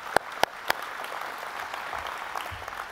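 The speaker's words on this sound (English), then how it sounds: "I think that we need applause for that." Guests at a chamber of commerce annual dinner applaud, a few sharp, close claps up front followed by a softer, sustained ripple of clapping across the room.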